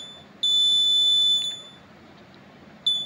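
Repaired bike buzzer horn wired with a diode, sounding a loud, piercing high-pitched buzz for about a second, then stopping, then starting again at the end over faint room noise.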